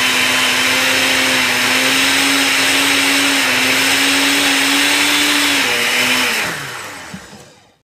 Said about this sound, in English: Once all your ingredients are in the blender, you add your lid on top and you blend.